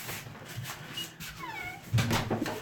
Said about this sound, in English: These are the cats.